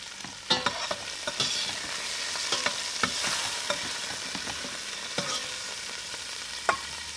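Onions fry in hot fat left from browning goulash beef, giving a steady close sizzle broken by sharp clicks and scrapes of a utensil stirring the pan, with no voices.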